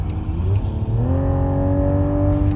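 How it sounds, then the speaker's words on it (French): Genesis GV60 Magma electric car playing its simulated combustion-engine sound, a loud close drone that rises steadily in pitch like an engine revving up under acceleration, with no voices. "elle va imiter à la perfection un moteur à explosion, un bon vieux moteur thermique"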